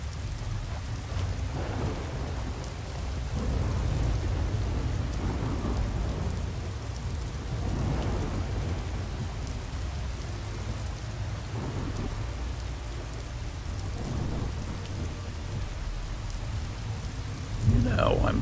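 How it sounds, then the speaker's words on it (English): Steady rain and rolling thunder in the Skyrim video game, a continuous wash of rainfall with low rumbles swelling and fading throughout and a sharper crack near the end. "I'm getting tired of this rain."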